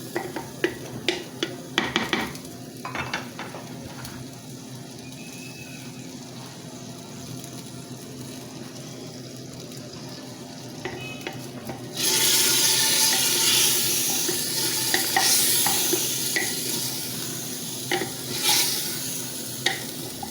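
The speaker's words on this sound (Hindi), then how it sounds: "स्टेप में हम इसके अंदर जो है वो थोड़ा सा और 5 मिनट तक हम इसको फ्राई करेंगे।" Arbi (taro root) and mutton frying in a pot, with a steady sizzle that swells loudly about halfway through, plus occasional stirring and clinks of a utensil against the pot.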